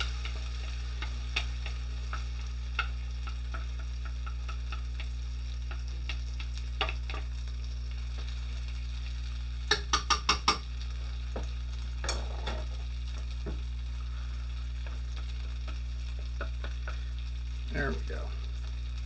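Okonomiyaki batter fries in a pan with a constant low sizzle, broken by scattered scraping taps and a quick cluster of spatula clicks near the middle, without any talking.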